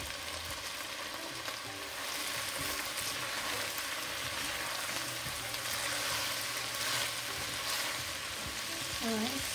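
Thyme and tomatoes fry in a pan for cou cou gravy with salt cod fish, giving a steady, close sizzle with occasional stirring scrapes, continuous with no talk.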